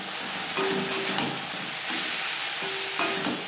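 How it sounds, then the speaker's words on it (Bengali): Onion, tomato, turmeric and salt frying in a pan while a spoon stirs them, a steady close sizzle with two brief scraping strokes, no voices. "লবণ হলুদ পেঁয়াজ টমেটোর সাথে মিক্স করে দেবো।"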